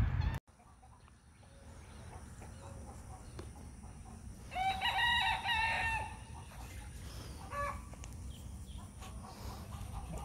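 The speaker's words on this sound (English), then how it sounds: "Chickens are working hard." Backyard garden chickens cluck and a rooster crows faintly from a distance, with a brief louder burst of crowing in the middle and scattered clucks over a steady outdoor hiss, no one talking.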